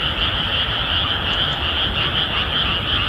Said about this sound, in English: it was noisy with the sound of frogs in the rice fields